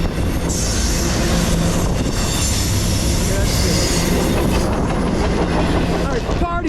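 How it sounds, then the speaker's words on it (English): A short Norfolk Southern freight train rolls past on the tracks, loud and close, with rumbling wheels, rhythmic clatter and intermittent squeals from the cars going by. "It's a pretty short train."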